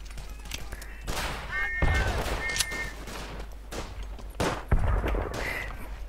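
Gunfire in the World War I shooter Verdun: repeated sharp rifle and machine-gun bursts at irregular intervals, some close and loud, others farther off, over a constant battlefield rumble.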